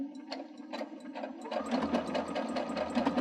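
Sewing machine running a built-in blind hem stitch on folded fabric, a quick mechanical chatter of needle strokes, steady and close, picking up speed partway through.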